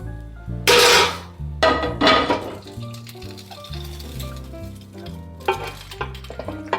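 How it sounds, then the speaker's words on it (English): Cooked pasta tossed with sauce, cheese and onions in a pan, with chicken and capers, giving bursts of wet stirring and sizzling over steady background music. "I'm going to throw in the pasta, and now we're going to put the sauce on top and give it a good mix"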